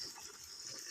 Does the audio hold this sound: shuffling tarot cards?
no